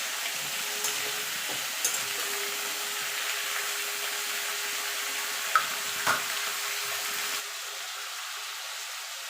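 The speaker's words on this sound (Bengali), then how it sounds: "নুন দিয়ে সবজিটা ঢাকা দিয়ে মিনিট দুয়েক একটু নাড়াচাড়া করে ভাজা ভাজা করে নেব" Malabar spinach vegetables sizzle steadily in a pan, with a few soft stirring clicks over a constant frying hiss that drops slightly in level near the end.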